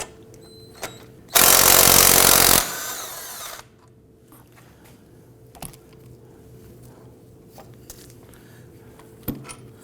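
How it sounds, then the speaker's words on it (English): A power tool, an impact gun fitted with a 15mm socket on the axle nut of a 2008–2011 Ford Focus, gives one loud, close burst of about two seconds and then tapers off, followed by quiet garage ambience and a few small clicks. "We're going to use our 15mm socket on our impact gun."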